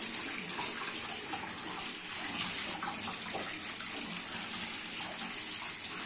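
Tap water runs steadily into a sink while chicken and liver are washed, a constant close splashing rush with faint clinks under it and no talking.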